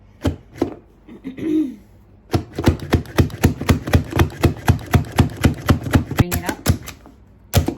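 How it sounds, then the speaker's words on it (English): A hand-pulled vegetable chopper cutting garlic: after a brief zipping pull and a short voice, a fast, even run of about twenty sharp plastic chopping clacks follows, close and loud. "I can see it's sort of like chopped my garlic into little pieces"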